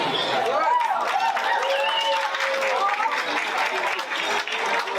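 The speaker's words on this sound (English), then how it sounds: "we'll clap along" A crowd at a ball event claps steadily along with music, the dense clapping continuous throughout while voices ring out over it.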